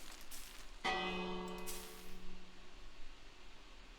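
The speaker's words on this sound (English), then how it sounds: "Wait, is that a bell?" A bell rings out in Minecraft, one clear metallic strike with a long ringing tone that slowly decays, heard faintly against quiet background noise, no speech.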